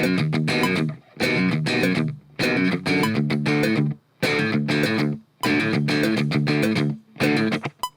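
Distorted electric guitar chugs out a modern rhythm part in loud chordal bursts separated by short silent gaps, played alone to a click track with no talking.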